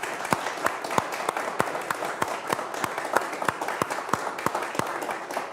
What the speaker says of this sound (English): if everybody could please give Donald a round of applause and yourself a round of applause